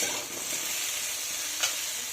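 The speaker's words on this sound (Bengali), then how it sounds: "আর এদিকে কড়াইতে সবজিগুলো ভালো করে ভাজা হোক" Mixed vegetables fry in a kadai for vegetarian khichuri, giving a steady, close hiss of sizzling oil, with one brief stirring scrape near the end.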